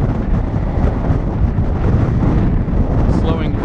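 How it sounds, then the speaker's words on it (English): A strong, steady gust of wind buffets the microphone outdoors while a Hobbyking Durafly Excalibur RC plane is flown, giving a loud, continuous low rumble with no pauses. "Whoa, big gust of wind, big gust of wind."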